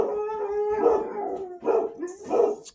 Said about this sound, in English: Y'all hear my dogs going bat crap crazy in there?